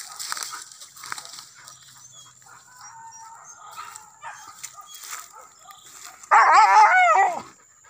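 A dog barks and yelps in a loud, close burst near the end, after a stretch of quieter outdoor sound with scattered faint noises, during a wild boar hunt.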